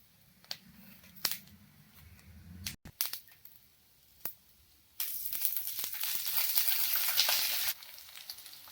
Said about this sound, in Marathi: तीळ भाजत आल्यानंतर आपण अद्रक लसूण टाकून ते पण आपण भाजून घेऊया